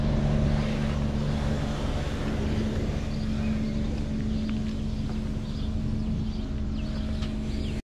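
A 2021 Mitsubishi L200 manual pickup with rear leaf springs drives unloaded, giving a continuous engine and road drone that stays steady throughout, with no talking.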